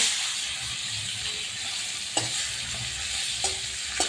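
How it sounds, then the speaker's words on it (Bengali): Fish rubbed with salt and turmeric fries in hot oil, giving a steady close sizzle and hiss with a few sharp utensil clinks and no talking. "তেল গরম হয়ে গেছে, মাছ দিয়ে দিচ্ছি"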